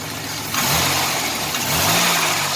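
An 1987 Chevrolet Celebrity Eurosport 2.8 V6 engine with a newly installed Magnaflow catalytic converter idles, then revs up twice with a rising roar, running smoothly and close by with no talking.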